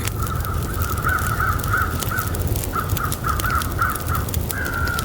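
Crows in a video game survival playthrough give a fast series of harsh caws, fairly close and loud, over a steady low rumble of wind or surf.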